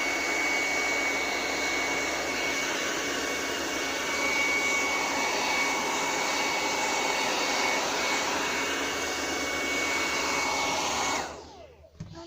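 A hair dryer blows steadily and loudly to dry fresh varnish on a decorative panel, a continuous whooshing hum that cuts off near the end.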